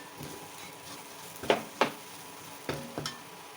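Soft sizzling of chili powder and turmeric frying in a pan for Kerala rasam, broken by a few sharp clinks and scrapes of a spoon stirring, close by and fairly quiet.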